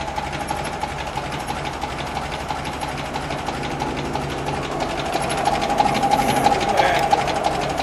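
A red 1936 Alvis Drophead Coupe convertible engine runs steadily at idle, a close, even mechanical chatter with a fast rhythmic ticking that holds throughout, with no voices over it.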